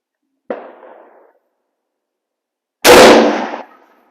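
A single sharp, loud report from an M-1903 Springfield rifle fired on a shooting range, preceded by a fainter short click or thump a few seconds earlier, then a quick fading tail.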